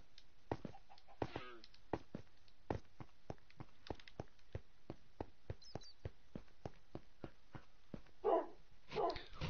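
Minecraft dogs barking in a video game: a long run of short, sharp, evenly spaced barks at close range, with a few whimpering yips near the end and no one talking.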